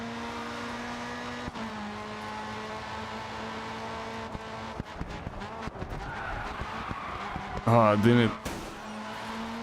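Tires skid and squeal as a car drifts in the racing game GRID 2, a grip-type car struggling through the slide, with engine drone throughout and a loud screech burst near the end; a man mutters briefly over it.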